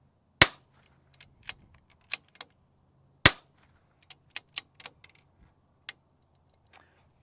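Ten shots from a rimfire rifle with an 18 or 20 inch barrel at a precision rimfire match setup, sharp cracks spaced irregularly, two louder and nearer, the rest lighter, with faint clicks of the action between them and no voices.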